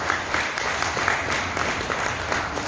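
An audience at an insurance sales seminar claps in steady, dense applause that continues evenly throughout, moderately loud with no talk over it.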